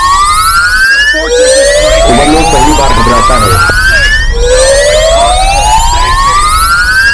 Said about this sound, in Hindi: और फिर अलार्म बजने लगते हैं।